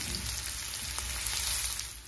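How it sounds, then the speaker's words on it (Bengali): Onions frying in oil in a pan, a steady soft sizzle with faint crackle throughout, quiet and close with no talking. "পেঁয়াজটা হালকা ব্রাউন করে ভেজে নেব প্রথমে"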